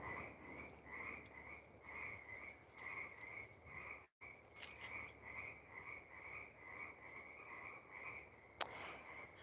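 Frogs croaking at a backyard frog pond in the evening, a steady faint chorus of repeated pulsing calls overlapping one another, distant and continuous, with a brief dropout midway and no talking.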